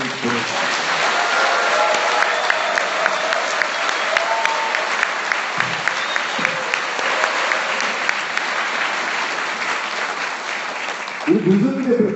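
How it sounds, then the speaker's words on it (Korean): Sustained, loud audience applause at a live beta-version open showcase event, a steady dense clapping that lasts nearly the whole stretch before a voice cuts in at the end. "뜨거운 박수를 한번 보내주십시오."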